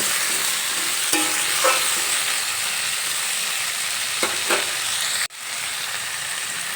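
Chopped tomato being stirred into vegetables in a hot frying pan, a steady close sizzle with a few scraping strokes of the spoon and one sharp knock near the end.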